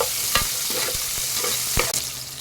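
Sliced onions are sautéed in a pan for a chow chow sambar, giving a steady close sizzle with a few sharp clacks and scrapes as a spatula stirs them.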